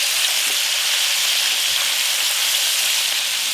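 Meatballs sizzle and fry in a pan as they turn golden brown, a steady, close hiss of hot oil with no pauses and no voices.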